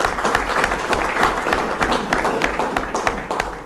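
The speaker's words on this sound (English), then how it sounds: "I think we should really give him another round of applause" Applause from an audience at a gathering honoring a coach, a dense, steady patter of many hands with a few louder individual claps standing out, close and continuous.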